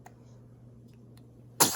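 A single sharp sneeze bursts out near the end after a quiet stretch with a low hum.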